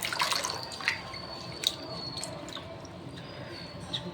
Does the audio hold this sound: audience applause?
no